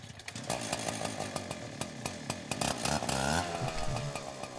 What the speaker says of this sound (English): grab your chainsaw and cover your ears for just 1 second as Jacob turns on the chainsaw